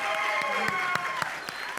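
Audience applause welcoming a guest onstage, a steady wash of clapping with some cheering and a few voices over it.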